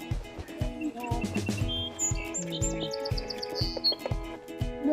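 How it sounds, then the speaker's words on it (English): Song sparrow singing outdoors near a nest box, a run of bright trills and chirps carrying clearly over several seconds, with other faint birds in the background. "You said that's a song sparrow?"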